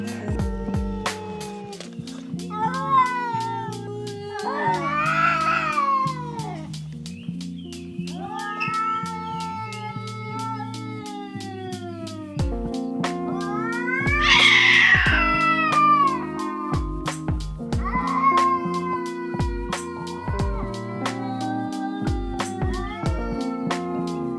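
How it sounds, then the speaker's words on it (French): Several cats on a Laoshan mountain trail meow and caterwaul loudly and close, trading long rising and falling calls in overlapping bursts with no talking. "Il y a encore un chat, mais il y en a partout des chats."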